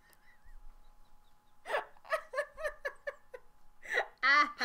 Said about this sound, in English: I have hiccups again